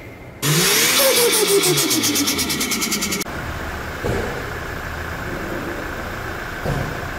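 A 2020 Toyota Hilux's diesel engine turns over and catches, then runs loud and steady with a rough, throbbing idle close by.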